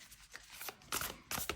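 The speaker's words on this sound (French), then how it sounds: "Je remélange tout le paquet. Et on va tirer 3 cartes. Donc, je vais les étaler." A new oracle card deck shuffled and spread out by hand, quiet riffling bursts and soft slides of cards coming in short clusters, close and alone.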